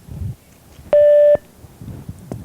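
A single loud, steady electronic answering machine beep lasts about half a second after a voicemail greeting, with faint room noise before and after.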